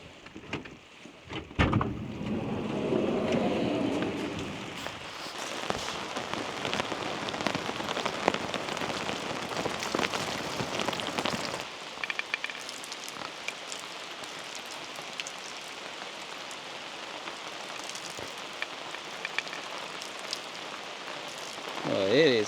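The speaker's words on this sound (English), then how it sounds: "this rain really is coming down" Heavy rain pours down on a campsite, a dense, steady patter drumming on a surface close by, with a few knocks and rustles and a louder burst near the start.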